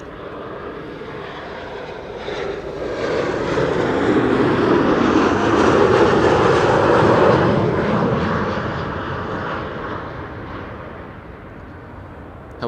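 A Helvetic Airways airliner arriving from Zurich passes close overhead at Amsterdam Schiphol on a sunny day, its engine roar swelling to a broad, loud peak mid-pass and then fading away, with no voices.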